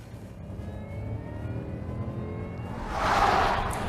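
A Jaguar S-Type R saloon's supercharged engine whines steadily with a low rumble beneath, swelling into a louder broadband rush near the end as the car accelerates past close by.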